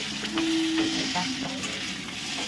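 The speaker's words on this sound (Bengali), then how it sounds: "তাই পাস্তা রান্না হচ্ছে।" Pasta cooks in a pan with a soft, steady sizzle and the occasional scrape of stirring, fairly faint and close, with no talking.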